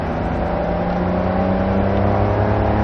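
Race car engine at Barber Motorsports track pulling steadily under throttle, a loud continuous drone with harmonics rising slowly as it accelerates, heard from close by without talk.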